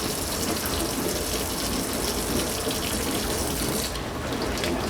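Tap water runs steadily into a sink while hands are rinsed, a loud, even gush that continues without a break.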